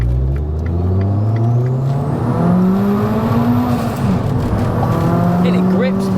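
A 340 bhp fully built turbocharged Abarth 595 accelerates hard, its engine note climbing loud and close in repeated rising sweeps between gear changes, with tires gripping and occupants talking over the noise.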